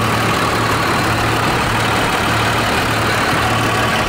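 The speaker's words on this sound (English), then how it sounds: "You guys haven't even seen the engine running with the hood up yet." A 1993 Dodge Ram W350 pickup with a 5.9-liter 12-valve engine idles with the hood up: a loud, close, steady low rumble with an even throbbing pulse throughout and no voices.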